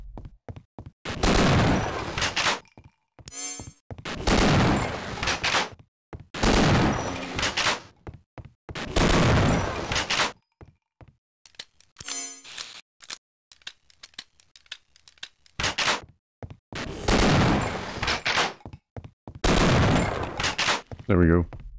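Repeated shotgun blasts fired at aliens in Half-Life: Opposing Force, loud bursts in irregular rhythm separated by short gaps, with smaller clicks and rustles between shots.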